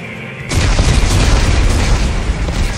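Explosives detonate in the video game Dead Space 3: a brief quiet tone gives way to a sudden massive boom that rolls on as a sustained, loud, rumbling blast for the rest of the moment.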